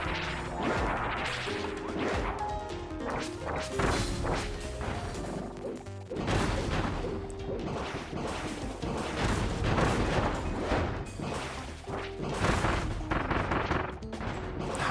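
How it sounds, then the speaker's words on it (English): Bomb explosions boom one after another in Kirby and the Forgotten Land, forming dense repeated blasts and crashes over game music throughout, loud and close with no pauses. "Honestly, this bomb ability is insane."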